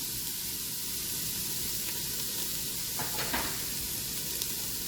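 Chopped onion sizzles steadily in a pot still coated with drippings from drained meat for a lasagna soup, a constant close frying hiss with a few brief stirring scrapes and no talking.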